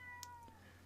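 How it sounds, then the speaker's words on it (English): A cat meows once, briefly and faintly, in the background over a steady low hum and a music track, with no talk. "So I hear a cat meowing somewhere."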